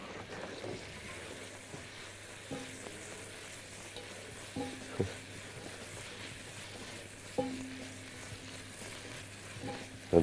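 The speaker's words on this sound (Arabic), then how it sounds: "نديها التقليبه المحترمه للشاورما الفراخ اللي عندنا" Chicken shawarma frying in a pan with a soft sizzle, broken by occasional spatula knocks and scrapes as it is stirred; fairly quiet overall.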